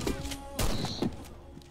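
Gunfire in the video game Warface, a few sharp loud shots in quick succession over a steady game background, with someone talking.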